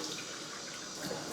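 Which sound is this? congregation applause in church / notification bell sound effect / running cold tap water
running cold tap water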